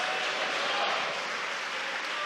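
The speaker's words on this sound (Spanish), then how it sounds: "Dele fuerte ese aplauso a Jesucristo." A church congregation applauding during a service, a dense, steady wash of many hands clapping at even loudness throughout, heard from within the hall.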